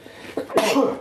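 A single sharp sneeze burst, close and loud, preceded by a short intake of breath.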